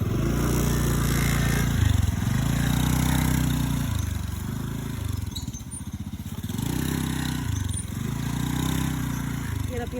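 A motorcycle labours over a rough, difficult road, its low engine note droning steadily and surging in uneven waves, with clattering and scraping mixed in throughout.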